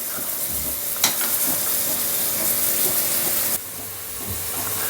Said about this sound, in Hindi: वही कढ़ाई में जो पनीर तल रहे हैं